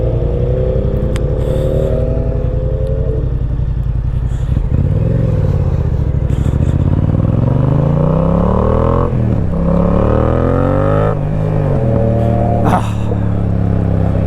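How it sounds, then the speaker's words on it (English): Motorcycle engine idling and revving steadily at close range, with loud throbbing harmonics that rise and fall across several throttle blips, accompanied by rain, wind and clatter throughout. "Bike still sounds good."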